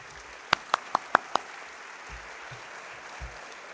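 A handful of sharp, separate hand claps, about five in quick succession, rise briefly over a quiet room at a national lawyers' congress, then only faint background murmur remains.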